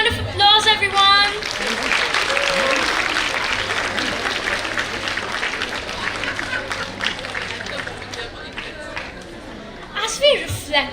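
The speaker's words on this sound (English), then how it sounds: "Let's have a big round of applause, everyone" Applause from an audience at a literary-arts event: clapping starts right after a voice, builds into a full, loud wash, then gradually thins while chatter and speaking voices return over its tail.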